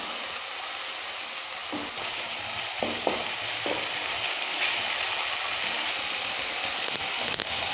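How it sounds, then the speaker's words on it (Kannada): Tomato masala for spicy Maggi noodles frying in oil in a pan, a steady close sizzle running throughout with a few soft scrapes of stirring. "ಇತ್ತ ಟೊಮೆಟೊ ಪೂರ ಫ್ರೈ ಆಂಡು ಎಣ್ಣೆ ಸೈಡ್ಗೆ ಬುಡೊಂದುಂಡು"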